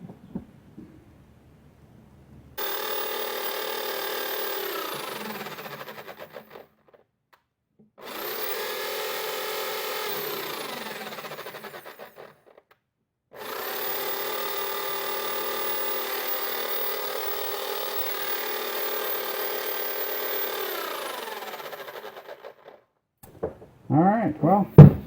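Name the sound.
Bosch hammer drill test run after drive gear replacement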